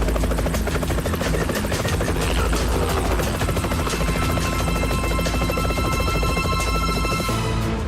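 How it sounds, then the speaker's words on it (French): A helicopter's loud, throbbing rotor drone fills the whole stretch, steady and close, with a whining engine hum underneath, during an aerobatic stunt display. "L'hélicoptère est là."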